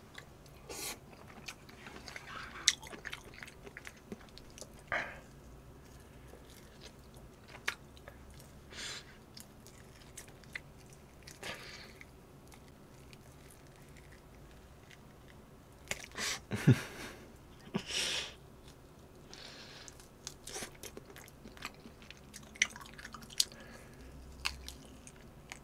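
Someone eats home-made Korean seasoned pork ribs and seaweed up close, with soft wet chewing, occasional sharper bites and crunches scattered irregularly over a quiet background, no talking.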